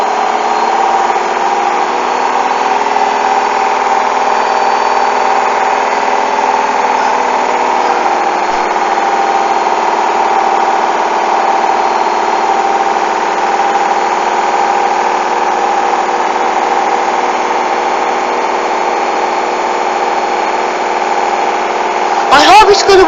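A Hoover washing machine running a 40-degree coloureds bedding load gives a steady loud mechanical drum hum throughout, with a brief clatter at the very end.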